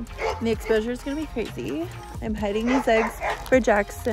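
Several dogs bark and yip in short bursts through a voice speaking over them outdoors on Halloween, the barks close and fairly loud, mixing with the talk.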